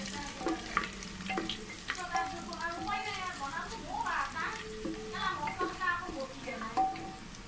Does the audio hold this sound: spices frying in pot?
yes